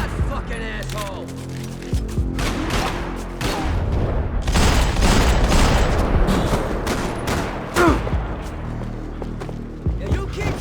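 Gunfire in Max Payne 3: rapid bursts of shots crackle loud and close over a dense, chaotic mix of impacts and action noise, with a voice talking partway through.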